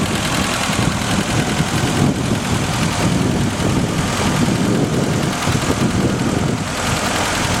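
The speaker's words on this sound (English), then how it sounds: "And we'll see how she fires up here. Very good running 4-cylinder." The 4-cylinder engine of a Willys CJ5 Jeep idles close by with a loud, rough, steady rumble that carries on without a break.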